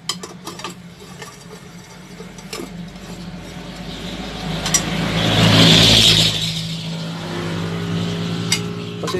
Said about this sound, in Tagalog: nasa tabi po tayo ng daan, kaya daming dumadaan ng mga sasakyan.